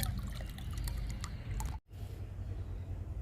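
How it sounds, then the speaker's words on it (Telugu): Kitchen-waste liquid fertilizer poured onto fruit plants outdoors: a faint, steady splashing trickle with a brief break midway before the flow continues. "మనకి ఇంకా ఈ లిక్విడ్ తీసుకెళ్ళి పండ్ల మొక్కలకి ఇచ్చేద్దాము"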